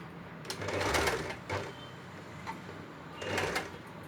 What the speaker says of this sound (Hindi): जो फोल्ड किया है उसी पर स्टिचिंग करें।